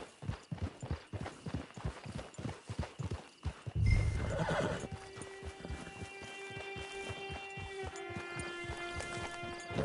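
In a video game, a horse's hooves clip-clop in a steady rhythm, then the horse whinnies loudly, followed by a sustained tonal hum.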